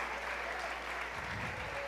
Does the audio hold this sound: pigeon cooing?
no